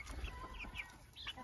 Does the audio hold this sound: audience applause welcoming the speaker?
no